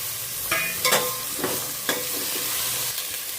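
Washed eggplant frying in oil in a home kitchen pan, with a steady sizzle and several sharp stirring scrapes and clacks of a spoon, close and alone without talk.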